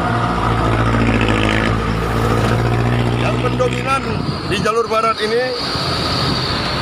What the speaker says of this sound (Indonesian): ini mobil batubara semua ya